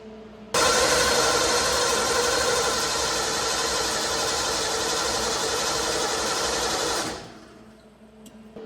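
An old Ford engine cranks over on the starter without firing, a loud, steady, rapid mechanical churning close by that runs for about six and a half seconds and then cuts off abruptly. Nobody speaks.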